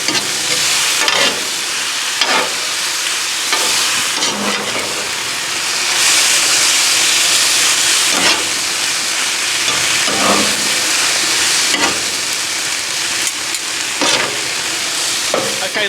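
Chicken stir fry being stirred on an outdoor gas grill top, loud continuous sizzle and steam hiss broken by repeated spatula scrapes and clacks every second or two.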